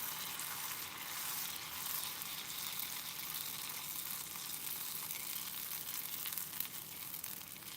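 Youtiao dough frying in oil in a small pot produces a steady, dense crackling sizzle that holds evenly throughout, fairly quiet and close, with no talking.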